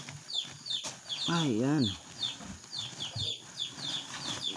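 Pet chicks peep and cluck in rapid, repeated high chirps close by, while a person briefly speaks a word partway through.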